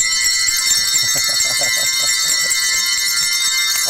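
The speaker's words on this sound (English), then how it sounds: "Let's hear your bells." A youth handbell group rings many handbells together at a Christmas service in a cathedral, producing a continuous, bright shimmer of overlapping tones with no talking.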